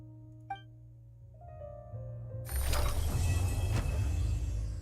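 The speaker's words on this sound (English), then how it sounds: "Door opened." A heavy door creaks and grinds open in the game Genshin Impact, starting with a small click and a low rising mechanical rumble, then a loud sustained rolling, ratcheting swell that continues to the end.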